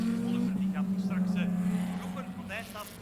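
Lotus Cup race cars pass through the first chicane at Zolder, their engines droning steadily at a distance under continuous commentary.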